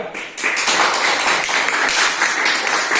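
Dense applause in a classroom for a group of students, loud and continuous after a brief quieter start, with no talk over it.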